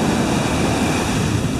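Steady, dense surf washing onto a sandy beach where mole crabs gather, a continuous close roar of breaking waves with some wind buffeting the microphone throughout.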